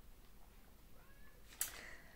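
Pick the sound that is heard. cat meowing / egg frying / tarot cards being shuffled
cat meowing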